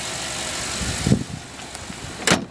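The 5.3 liter V8 of a 2009 Chevy Tahoe idles with a steady, broad rumble and hiss, close by, with a couple of brief knocks or clunks over the running engine.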